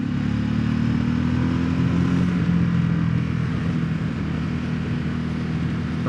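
A Ducati Desert X motorcycle engine and exhaust runs steadily and loud for the whole stretch, a deep, rough, somewhat agricultural-sounding drone with no talk over it.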